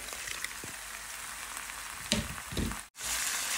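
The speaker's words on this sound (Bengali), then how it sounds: "তো এখন আমি পেঁপে, ডাল দুটো আমি একসাথে দিয়ে দিলাম।" Papaya and lentils fry with spices in a hot pan, giving a steady close sizzle with brief louder crackling bursts and a short stir-like break near the end.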